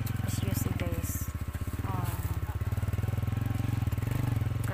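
A motorcycle engine labors up a rough, steep farm road with a rapid, steady knocking throb, close and continuous, with a faint voice at times.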